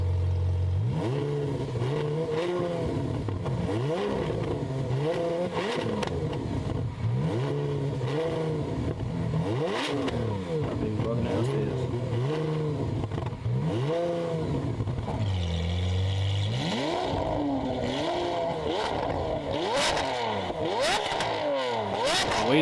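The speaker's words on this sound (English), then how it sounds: "Sound completely different with the valves open." A Lamborghini Aventador Ultimae with a valved valvetronic exhaust, valves open, revs hard again and again, each sharp rise and fall ending in crackling pops, loud and close.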